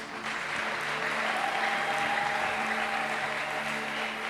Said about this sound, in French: est-ce que tu peux m'aider à acclamer pour les parents?